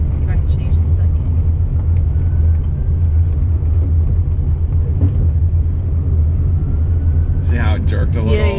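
A Ford Mustang Bullitt GT with a manual gearbox drones steadily with a deep, close engine rumble while second gear is selected, and a brief rise in revs comes near the end; voices talk over it inside the car.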